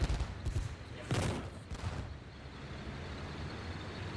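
Rapid bursts of gunfire and artillery in a Theatre of War 2 battle at Cheux, including a Flak 88, crackle and boom loudly, with several heavy blasts early on before settling into a dense, rumbling wash of distant fire.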